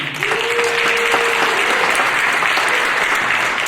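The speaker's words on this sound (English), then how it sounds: "please, a round of applause for our candidates tonight." A theater audience at a 2026 U.S. congressional District 2 candidates' forum breaks into loud, dense applause that starts almost at once and holds steady throughout, with no one speaking over it.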